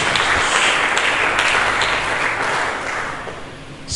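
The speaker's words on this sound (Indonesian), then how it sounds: "Mari kita berikan tepuk tangan yang meriah bagi Yesus." A church congregation claps in loud, dense applause during a sermon, sustained and gradually easing toward the end.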